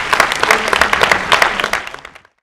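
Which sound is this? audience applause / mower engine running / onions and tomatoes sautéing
audience applause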